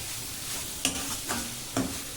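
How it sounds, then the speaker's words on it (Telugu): Onions frying in a pan, a soft steady sizzle broken by three sharp spatula scrapes and clinks against the pan, no voices. "ఉల్లిపాయని రంగు మారే వరకు కూడా వేయించుకోండి"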